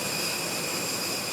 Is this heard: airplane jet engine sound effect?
yes